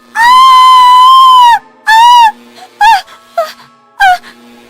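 A woman lets out a long, loud scream, followed by several shorter anguished cries with brief pauses between them.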